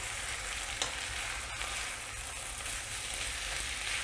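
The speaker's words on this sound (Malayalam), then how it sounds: "ഇതെല്ലാം കൂടെ നമുക്കിനി നല്ലോണം ഒന്ന് മിക്സ് ചെയ്യാം." Thai chicken fried rice tossed with sauce in a pan over a lowered flame gives a steady, close sizzle, with a brief scrape of the spatula partway through and no voices.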